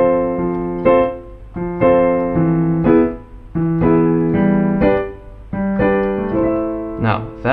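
Close, clear acoustic piano plays a progression from a song in which one chord carries a raised fifth, struck in repeated sustained chords with no talking.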